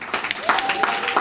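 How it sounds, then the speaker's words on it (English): Applause for a graduating class at an early learning academy graduation ceremony, many hands clapping steadily while a voice rings out above the crowd. "Please stand so we can give you all a round of applause."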